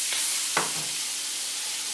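Scallops searing in browned butter in a frying pan, a loud continuous close sizzle with a couple of brief sharp crackles near the start and no talking.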